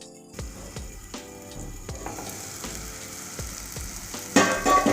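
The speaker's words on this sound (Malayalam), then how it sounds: "ഇനി നമുക്ക് ഇതൊന്ന് മൂടി വെച്ച് ആ ടൊമാറ്റോ ഒക്കെ നന്നായിട്ട് കുക്കായി വരുന്ന വരെ മൂടി വെച്ച് വേവിച്ചെടുക്കാം." Tomato masala for bhindi masala curry sizzles steadily in a covered pan, with soft repeated clicks and taps as the lid or spoon touches the pan, and the sizzle grows louder toward the end.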